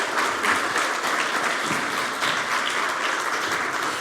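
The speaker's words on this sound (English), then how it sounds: "Please give it an applause." Audience applause fills a conference hall after a panel discussion at an innovation event stage, steady dense clapping from many hands, sustained and fairly loud for several seconds.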